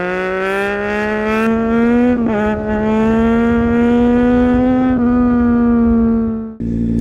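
A Triumph Street Triple motorcycle engine revs loud and steady at high pitch while held in a wheelie, with a brief dip as a gear shifts, then drops off sharply near the end.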